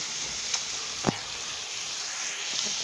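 Onions and meat for bourek fry steadily in a pan with olive oil, a continuous close sizzle with a couple of faint clicks, no talking.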